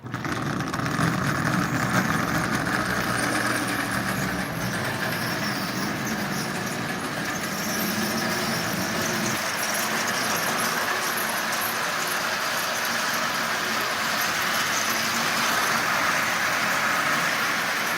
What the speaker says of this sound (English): So a Marx 400 with the micro motor in it, pulling 20 Marx cars.